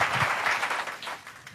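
Church congregation clapping together during a sermon, a brief burst of broad, rushing applause that starts loud and tapers off within a couple of seconds.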